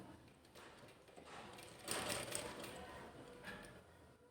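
A sewing machine stitches a dress top, giving a faint, steady mechanical whirr with a slightly louder burst midway, heard quietly and close.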